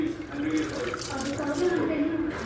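Basmati rice being washed by hand in a bowl of water, with continuous swishing and gentle sloshing throughout and a voice speaking over it.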